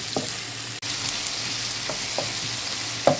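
Onion and garlic fry in a pan for lentils, giving a steady close sizzle with a few soft stirring scrapes and taps.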